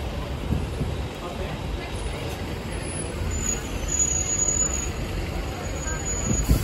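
A London bus moving along Cannon Street in city traffic, giving a steady low engine rumble and road noise that swells slightly toward the end, with high whines faintly above.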